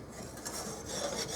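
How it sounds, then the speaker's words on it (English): A whisk scrapes and rubs through a bowl of dry flour, salt, baking powder and baking soda for a short, close, continuous swishing stir with no talking. "we're going to give that a little bit of a whisk"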